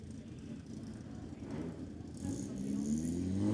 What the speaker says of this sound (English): That unmistakable sound, a little TC motor.